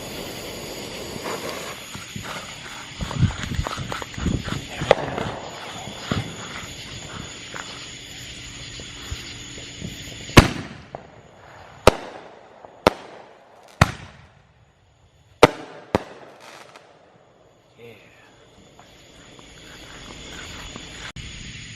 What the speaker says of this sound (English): Okay, we got a duo of 5-inch mortars, and it may blow up because they're kind of stiff in there